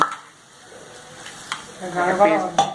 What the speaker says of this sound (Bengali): এবার সর্ষে বাটা দিচ্ছে, শিলে বাটা সর্ষেতে একটু জল মেশালো